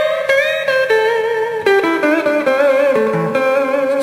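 A guitar strung right-handed, played by a blues musician, rings out clearly in close single notes and bent, sliding phrases over about four seconds, with no voices.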